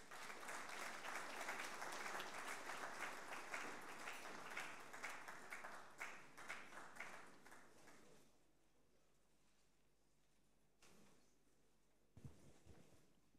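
Audience at a certification ceremony gives a warm round of applause that is dense and sustained at first. It thins into scattered claps and fades to near quiet, with a few isolated claps afterward.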